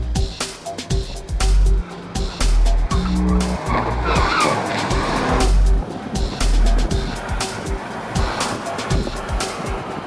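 Volkswagen Golf GTI Clubsport S, a front-wheel-drive car, accelerating hard at the Nürburgring with loud tyre squeal and skidding, its engine surging through repeated gear changes.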